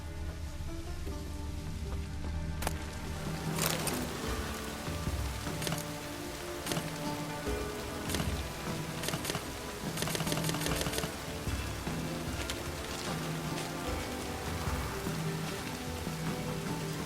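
Rain in The Witcher 3 video game, a continuous patter of drops on surfaces with sharp occasional ticks and clicks, steady and moderately close, with no voices.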